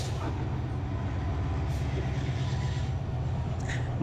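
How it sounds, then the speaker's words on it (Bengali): A train approaching on the Akhaura–Agartala railway, a heavy, steady low rumble with faint clanks and hiss above it, and no talking. "এই যে ট্রেন আসছে ট্রেন"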